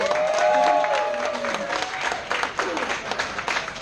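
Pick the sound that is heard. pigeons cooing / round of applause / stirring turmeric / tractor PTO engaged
round of applause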